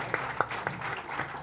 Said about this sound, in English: can we have a huge round of applause for her, everyone?